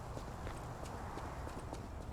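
Donkey hooves clip-clopping on hard ground in the video game Lies of P, a soft, steady walking rhythm of quick hoof taps under a dense, noisy background.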